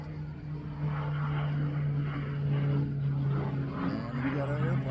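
A propeller airplane drones steadily overhead with a constant low engine hum throughout, while people talk over it.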